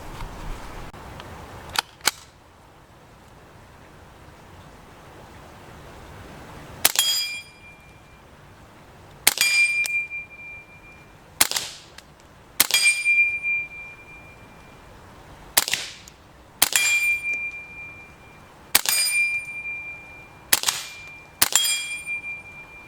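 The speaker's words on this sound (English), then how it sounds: "The dot is just about on the steel plate now. I'll zoom back out and have a few shots." Rifle shots striking a steel plate target at a distance, heard as about ten sharp metallic pings spaced a second or two apart, each ringing briefly, with no talking.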